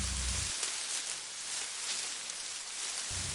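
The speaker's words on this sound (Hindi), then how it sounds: "तेज तूफानी बारिश शुरू हो गई" Heavy stormy rain pours down steadily, making a soft, even broadband hiss with no other sounds standing out.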